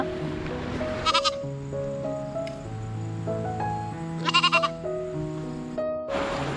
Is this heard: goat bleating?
yes